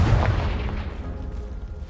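A booming blast from a Confringo spell in the Hogwarts Legacy game hits hard at the start and fades into a low rumbling tail over two seconds, with no talk.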